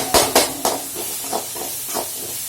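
Chili powder with turmeric sautéed and stirred in hot oil for a squid gravy, a few sharp scraping strokes of a spoon against the pan over a steady soft sizzle, close and without talk.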